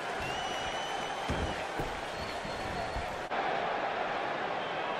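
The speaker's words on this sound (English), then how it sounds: "And the crowd is liking this so far." Wrestling crowd at an IWA independent show cheers steadily throughout, a dense roar of many voices with scattered claps, loud and continuous with no gaps.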